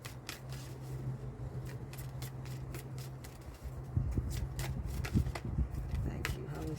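Tarot cards, slightly sticky, are shuffled by hand close up, giving a run of quick papery riffles and soft slaps that grows louder and denser in the second half, with a low hum underneath.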